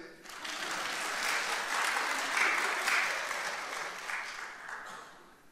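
Applause from a church congregation in Laguna Hills swells to a fairly loud, dense peak in the middle, then tapers off toward the end, with no talking.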